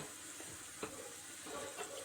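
Onions sizzle steadily as they sauté in a pan, with a few soft scraping stirs breaking through the hiss.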